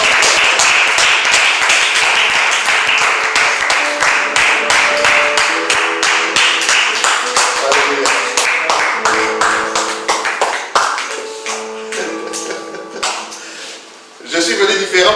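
A church congregation at a Sunday service claps in a fast, steady rhythm to acclaim the king, loud and close, with sustained musical tones and voices rising underneath before the clapping thins out toward the end.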